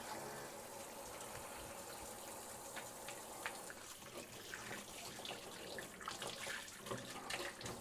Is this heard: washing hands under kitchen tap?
yes